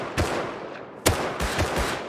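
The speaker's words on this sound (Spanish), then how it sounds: "He dado dos tiros a través de esto." Gunfire in the survival video game Rust: several sharp, close shots in quick, uneven bursts over about two seconds, loud and without speech.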